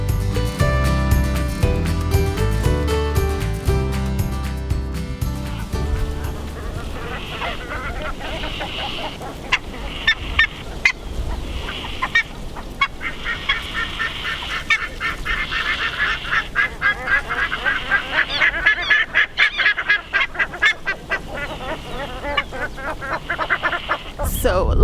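Geese and other waterfowl honk and call at Laguna Nimez bird sanctuary on the shore of Lago Argentino, a busy chorus of repeated calls near and far, following a stretch of music at the start.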